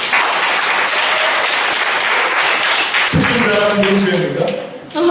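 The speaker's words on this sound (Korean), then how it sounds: "박수 한번 해주세요" A church congregation applauds steadily in a large hall, broad sustained clapping that continues for several seconds, with a voice and music-like tones entering over the applause partway through.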